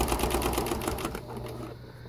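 A sewing machine stitches a tote bag in a fast, rhythmic clatter that runs for about a second, then stops, leaving a quiet low hum.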